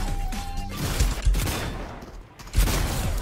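Shotgun blasts in Fortnite, a few heavy booming shots in quick succession with dense crackling game noise between them, loud and close.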